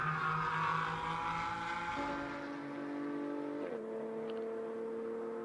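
A Pirelli GT4 America race car runs flat out at Indianapolis Motor Speedway, its engine a sustained tonal drone that drops in pitch in two steps as it shifts through the chicane, heard steadily without speech.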